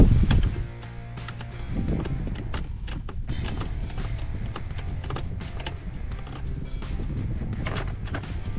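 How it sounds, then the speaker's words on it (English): Screw clamp being loosened on the air filter of a Polaris RZR 170 EFI side-by-side, with close, repeated creaks and mechanical ticks over a faint background hum; no talking. "There's a clamp right in there with a screw. You're just going to want to loosen it."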